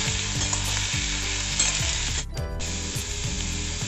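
Kakrol pieces fry in a hot spiced-oil tempering while a utensil stirs them. Loud, close sizzling runs under a rhythmic scraping and rattling against the pan, with a brief dip partway through.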